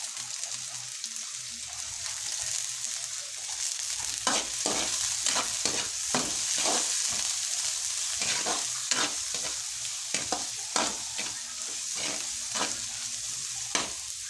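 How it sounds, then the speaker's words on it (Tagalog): Dried anchovies sautéing in a pan, a steady close sizzle broken by repeated scraping stirs at an uneven rhythm, with no talking. "Gisa ko ang dilis."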